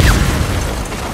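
A loud, close explosion in Uncharted 4 lands as a broad rumbling boom, then a dense roar decays steadily over about a second with no voices over it.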